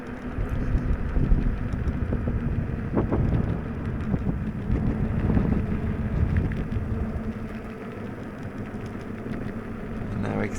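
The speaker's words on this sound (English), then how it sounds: "We can start to see the grass and the trees going a little bit mad in the wind" Strong wind buffets the microphone on an exposed hilltop summit, a steady broad rumble with gusty surges that rises and falls throughout, loud and close, with a faint engine-like drone blended underneath.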